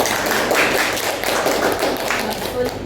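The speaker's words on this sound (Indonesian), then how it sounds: "Mereka tepuk tangannya, Mbak." Students in a classroom clap for a student group, a close, busy patter of hands with some thumps, while voices talk over the clapping.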